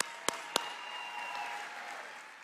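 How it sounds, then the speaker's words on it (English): Audience applause at a CPAC rally, a sustained wash of clapping after two sharp claps at the start, moderately distant and fairly quiet, with no voices over it. "so let's give him a big round of applause"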